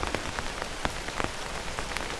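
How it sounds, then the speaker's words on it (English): Continuous rainfall on a street with water running along the curb, a close, even wash of patter broken by sharper individual drops. "Rain continues falling."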